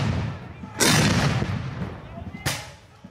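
Gunfire and cannon blasts at a Civil War battle reenactment: a loud, booming shot with a long rolling echo, then a second sharp report, over a low rumble of crowd noise outdoors.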